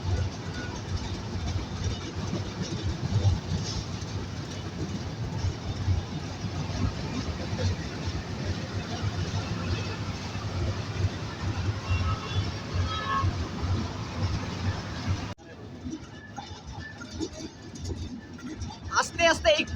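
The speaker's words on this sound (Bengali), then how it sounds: "আস্তে আস্তে একটু একটু করে সায়দাবাদ রেলওয়ে স্টেশনে প্রবেশ করছে সিএলসিটি এক্সপ্রেস।" Silk City Express passenger train rolling slowly into Saidabad railway station by the Jamuna rail bridge in Bangladesh, a steady loud rumble with rail clatter and crowd voices throughout, dropping suddenly quieter near the end.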